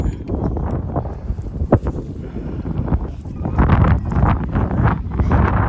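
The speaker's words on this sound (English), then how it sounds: "the wind is picking up" Gusty wind buffets the microphone in a continuous rushing roar that swells and eases, with no voices.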